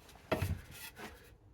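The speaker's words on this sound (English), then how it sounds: "I'll just rub up and down just to further round it off" Rubbing on the rough wooden neck of a homemade oil can guitar to round it off, heard as two short close scraping strokes of moderate loudness, then quiet.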